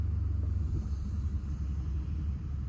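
A BMW 750i twin turbo rolls along with a deep, steady low engine rumble and road drone, a heavier throb at the start easing into a constant cabin hum, with no talking.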